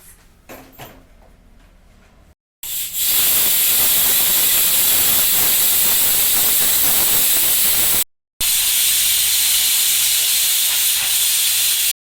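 A pressure cooker on a gas stove, cooking village-style drumstick leaves soup, lets out a loud, sustained steam whistle that hisses for several seconds, breaks off briefly, then resumes at full strength after a few faint knocks.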